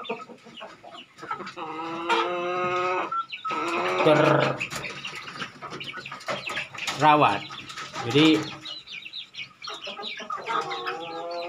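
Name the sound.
Bangkok fighting chickens clucking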